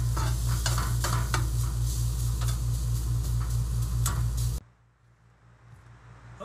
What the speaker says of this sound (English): we've got our onions and peppers caramelized here.